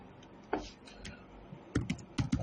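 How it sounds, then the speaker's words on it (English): Keys clack on a computer keyboard in short, uneven bursts of nearby typing with small pauses between them. "Let me type another thing again."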